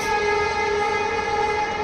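A train rolling past close by, a loud steady rumble with a sustained horn-like tone held through the whole short stretch, no talking.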